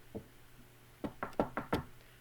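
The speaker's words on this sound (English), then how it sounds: "knock, knock, knock. Good gracious, said Percy. It's the door again." Knocking on a door in a children's story, a faint single tap followed by a quick series of five sharp, close raps with no voices.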